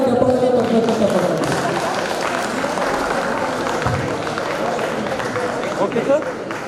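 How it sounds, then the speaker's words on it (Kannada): Dense crowd noise with scattered clapping and babble fills a hall at a state-level teachers' programme, loud and steady throughout, applause for teachers mixed with murmuring voices. "ಅದರಿಂದ ಇನ್ನೊಂದೇ ಜೋರಾಗಿ ಚಪ್ಪಾಳೆ ತಪ್ಪಬೇಕಂತ"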